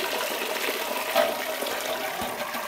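Wort drains steadily from a lifted bag of about six kilos of soaking wet grain during home brewing, a continuous close rushing, splashing pour with no pauses.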